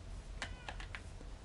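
A cat gives a few quick, soft meows close by over a steady low hum, with no talking.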